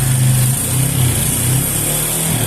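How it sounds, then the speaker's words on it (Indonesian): A Honda Supra 125 motorcycle with a rough-sounding engine runs unevenly and cannot hold a steady idle, its loud low chugging surging and dipping in an irregular rhythm. "tetapi nyalanya itu tidak stabil seperti motor biasanya"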